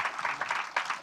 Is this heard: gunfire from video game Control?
no